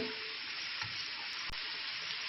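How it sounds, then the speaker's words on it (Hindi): Vegetables for egg fried rice frying in a pan, a steady loud sizzle running unbroken throughout with a brief clink partway through. "इन सब वेजिटेबल्स को मैं फ्राई कर लूँगी ताकि ये अच्छे से गल जाएं।"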